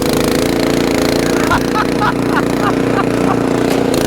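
An Ariens Compact 24 snow blower chews through heavy snow with a full bucket, its engine droning loud and constant while the auger works under strain.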